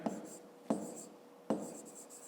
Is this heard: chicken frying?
no